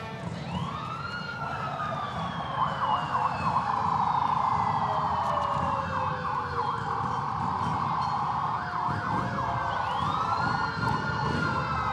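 Vintage fire apparatus sirens wail continuously in a street parade, rising and falling tones overlapping near and loud, with engine rumble and crowd noise beneath.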